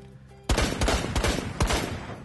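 After a brief quiet start, a burst of rapid gunfire erupts in Rainbow Six Siege as shots break through a wall, loud close cracks in quick succession with a final sharp shot.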